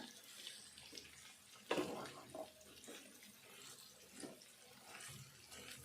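Vegetables being rinsed under running tap water while cooking a potato and brinjal curry, faint splashing and trickling with a sharper splash near the start, close and quiet.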